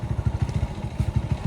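A motorcycle engine idles close by with a steady, rapid low chugging pulse, no talking over it.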